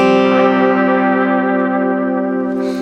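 Guitar through a DMB Lunar Echo pedal on its tape setting with speed and depth turned all the way up, a loud sustained chord warbling with strong pitch modulation and echo that fades slightly toward the end.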